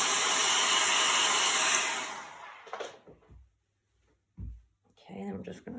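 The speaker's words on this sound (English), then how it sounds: "When you use the blow dryer, you want to make sure that you don't put it on the transfer." A handheld hair dryer blows loudly and steadily for about two seconds while used on a chalk transfer craft project, then cuts off, leaving quiet handling clicks and a few soft knocks.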